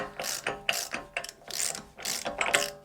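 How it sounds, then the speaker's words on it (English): Digital torque wrench ratcheting onto the axle nut of a V12 Mercedes: a close, loud run of rhythmic mechanical clicks in repeated bursts, with no voices. "Click, click, click, click, click, click, click. Digital torque wrench. I'm getting the axle nut on."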